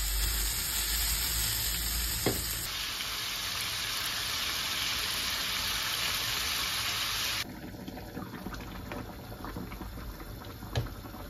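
Sardine and orata frying in a pan make a continuous crackling sizzle, with a faint high electronic whine over it and an occasional soft clink, close and fairly quiet.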